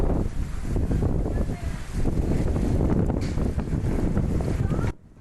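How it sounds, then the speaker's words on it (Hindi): Strong, dusty wind blowing at about 25 to 30 km/h through the city of Jabalpur in the evening, a loud, steady roar with rushing gusts that cuts off abruptly at the end. "धूल भरी तेज हवाएं लगभग 25 से 30 किलोमीटर की रफ्तार से चली"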